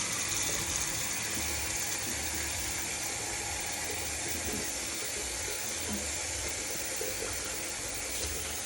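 Running water flows steadily from a tap as fingers are rinsed with a clean washcloth, a soft, even gushing wash that continues without pause, faint and close.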